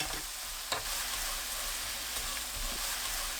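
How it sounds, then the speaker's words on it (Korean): Anchovies being stirred into a bubbling sugar and mirin glaze in a hot pan make a steady close sizzle and frying hiss, with a couple of soft scraping stirs and no talking. "멸치 넣고 섞어주세요."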